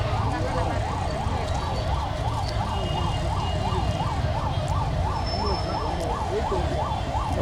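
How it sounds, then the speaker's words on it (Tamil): An ambulance siren wails in a steady, rapid up-and-down pattern, loud and close throughout, over a constant rumble of traffic. "okay ambulance போயிட்டுமா"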